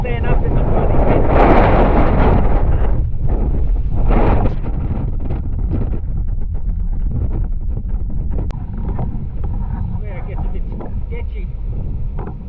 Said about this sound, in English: You can hardly stand up in the bloody wind.